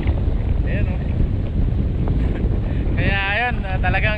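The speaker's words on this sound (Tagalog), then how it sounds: "binabakbakan kami na talaga ng hangin" Strong wind batters the microphone on a small boat out on rough, choppy water, a loud continuous roar and rumble with a voice briefly rising near the end.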